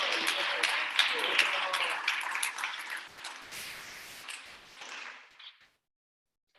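Audience applause fills a school board of education meeting, a burst of brisk overlapping claps that thins out and fades to silence within a few seconds.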